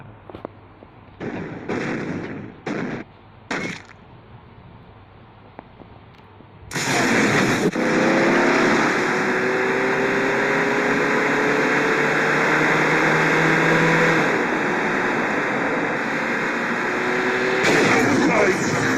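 A car engine roaring in a racing video game, first a few short revs, then a loud sustained acceleration that swells and holds with shifting pitch, close and dominant.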